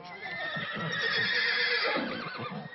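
A horse whinnies in one loud, drawn-out neigh lasting nearly three seconds, close and clear, with faint hoof clatter beneath and no talking.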